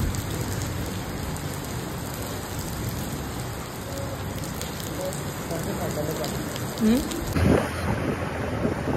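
Steady rain hisses throughout, and near the end a brief rumble of thunder rises above the downpour. Faint voices may be mixed in.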